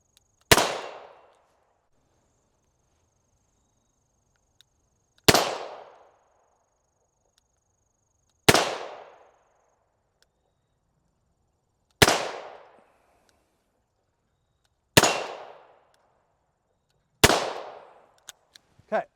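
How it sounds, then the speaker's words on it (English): A Ruger GP100 revolver fires .38 Special rounds double action at target practice: six sharp, loud shots spaced a few seconds apart, each ringing off in a short echo. "Now we're going to shoot double action."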